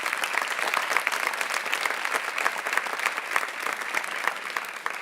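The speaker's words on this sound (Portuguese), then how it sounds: "Pode aplaudir o Senhor, é para Ele." A church congregation applauds steadily throughout, a dense, even wash of many hands clapping at close range with no voices standing out.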